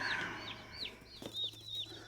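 Young Cornish cross chicks peep in high, thin chirps in a brooder with heat lamps and pine shavings, several calls overlapping and repeating close by against a low steady hum.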